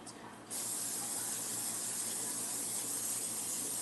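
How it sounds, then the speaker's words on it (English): Cooking spray hisses steadily from a can into the bottom of a baking pan in a home kitchen, a close continuous spray that starts abruptly after a short pause and runs unbroken with a faint hum beneath. "You're going to spray the bottom of the pan."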